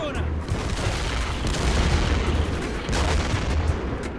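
Artillery fire from the video game Darkest Hour rumbles as a loud, continuous barrage, with heavy low booms and bursts of gunfire layered into a thick, sustained roar.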